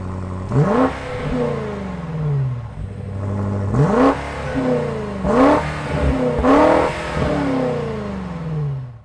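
A 2022 BMW M5 CS in Sport Plus mode revs hard three times in a row, each loud rising blip dropping back to idle, with the engine close and clear and no one talking over it.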